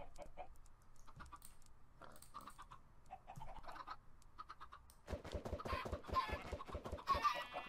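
Chickens in the Minecraft modpack SkyFactory, scattered soft clucks with clicky scratches at first, then a denser, louder burst of overlapping clucking and clicks toward the end.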